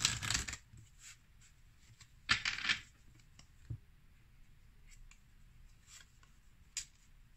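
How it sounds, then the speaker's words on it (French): Oracle message cards being shuffled and drawn, with two crisp riffling bursts near the start and midway, followed by soft scattered taps and card handling, quiet and close, without talk. "on va maintenant prendre une carte message"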